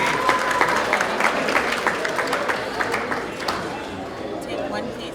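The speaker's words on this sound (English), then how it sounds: "we give them a loud round of applause," Wedding guests applauding loudly at a reception, a steady dense wave of clapping mixed with crowd chatter that carries on throughout.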